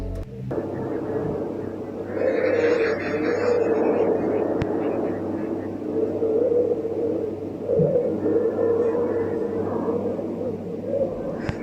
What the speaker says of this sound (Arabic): Let's see how Mars sounds like.